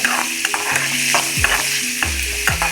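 Fish coated in masala fries in a pan with a loud, close, continuous sizzle, punctuated by repeated spatula scrapes and knocks against the metal.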